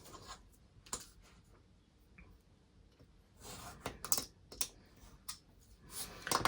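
Glassine paper being trimmed while making paper pockets, heard as quiet, scattered crisp snips and rustles that grow denser and louder toward the end, with no voices.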